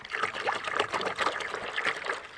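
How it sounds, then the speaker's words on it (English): A gallon of Metal Rescue de-rusting liquid pours steadily into a container for soaking a rusty brake rotor, giving a continuous, close trickling and splashing that holds an even level throughout. "So I'll just pour the gallon in here."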